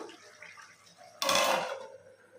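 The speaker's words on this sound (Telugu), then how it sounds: "మూత పెడదాము" A lid placed on a cooking pot of mushroom biryani, a single metallic clank that rings briefly over quiet kitchen background.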